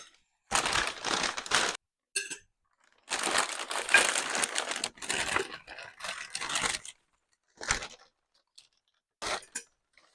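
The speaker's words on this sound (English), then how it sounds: "I'm just going to unwrap them all." Store paper wrapping crinkles and tears in bursts as Halloween decorations are unwrapped one by one, close and loud with short pauses between handfuls.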